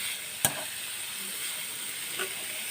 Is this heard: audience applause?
no